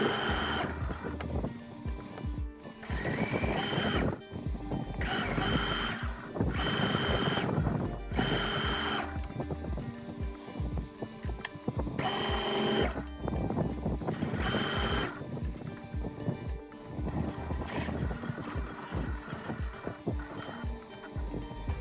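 A sewing machine runs along a half-inch folded hem on a kameez in several bursts of fast mechanical whirring with short pauses between them, close and steady with no talking.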